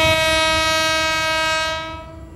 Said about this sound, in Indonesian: Seri JR25-nya melintas nih